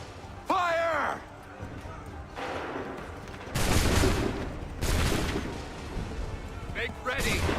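Musket volley fired on command in the Assassin's Creed 3 video game: a loud crackling burst of shots at 3.5 seconds and another near 5, with shouted commands and game music around them.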